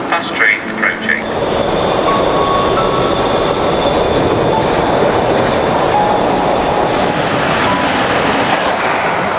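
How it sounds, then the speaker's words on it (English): A fast train, the steam locomotive Tornado, runs through a station without stopping. Its loud, close rush of rolling wheels and rattling carriages roars continuously past, with brief sounds at the start. "The approaching train is not scheduled to stop at this station. Fast train approaching."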